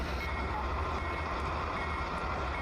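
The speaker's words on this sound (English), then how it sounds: "But we are using a -9 sound set made by Anthony Wood" A steady, loud diesel locomotive rumble from a Dash 9 sound set in Train Simulator Classic, with BCOL 4647 leading a transfer run through a blizzard; the low engine drone stays continuous and even throughout.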